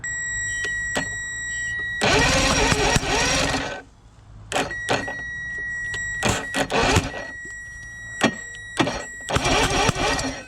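A Chrysler 100hp outboard engine on a 1982 Glasstream boat is cranked over in bursts, a loud churning starter grind lasting a couple of seconds, followed by shorter cranks and clicks, with a steady electrical tone underneath.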